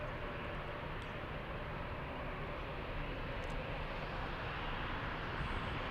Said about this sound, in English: Let me show you all the planes taxiing to the runway.